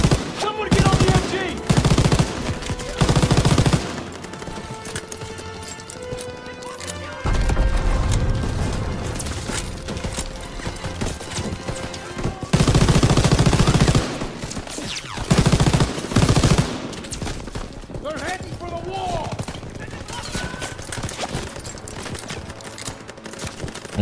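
Bursts of machine gun fire and gunshots in Call of Duty WWII, a World War II shooter, come in loud repeated volleys with booms between them over about 24 seconds.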